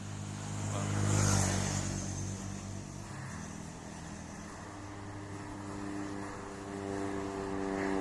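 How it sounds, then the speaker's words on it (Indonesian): A small propeller plane used for weather detection drones overhead, its engine swelling as it passes close, then fading to a steady distant hum. "pesawat capung ya."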